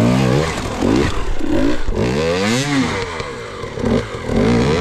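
A Husqvarna hard enduro motorcycle engine revs repeatedly in a forest, the pitch rising and falling in several loud, close bursts with clattering and scraping between throttle blips.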